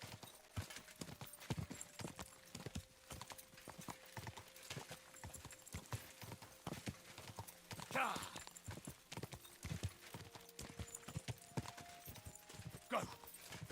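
Hooves clip-clop in a steady, close rhythm as a horse walks in Kingdom Come Deliverance 2, with a brief snort partway through and faint background tones beneath.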